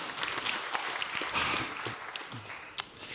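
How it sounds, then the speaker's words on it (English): An audience claps at a startup pitch event, a faint, scattered patter of applause with a sharper clap near the end and a voice briefly audible. "Applause for Viktorija."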